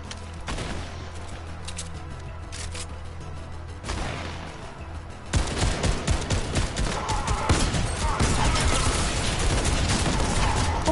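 Gunfire in Fortnite starts with sparse, softer shots, then breaks into loud, rapid continuous bursts from midway on, close and harsh, with no talk over it.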